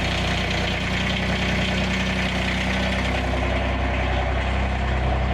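A snow plow truck's engine idles steadily while warming up, a close, continuous low rumble with no change in pace throughout.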